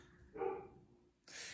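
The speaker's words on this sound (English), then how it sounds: "you can probably hear my dog barking in the background." A dog barks a few times in the background, fairly faint, with a short burst in the middle and another toward the end.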